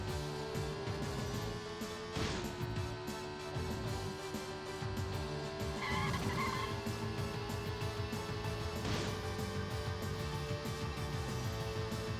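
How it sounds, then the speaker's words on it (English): Engine noise from a car in the video game Penny Racers, a steady buzzing drone that runs throughout, mixed with game music and a few brief effects. "you can hear the new engine noise"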